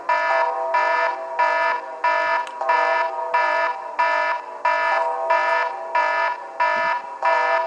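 An air raid warning alarm, also used for nuclear attack alerts: a loud electronic tone repeating in regular pulses about every two-thirds of a second, steady and unbroken by talk.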